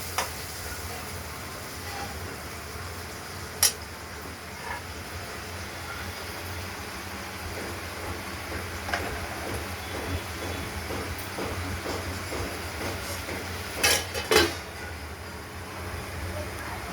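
Spices and cut katla fish fry in a pan with potatoes and tomato, giving a steady low sizzle and hiss. A few sharp clinks and scrapes from stirring stand out now and then.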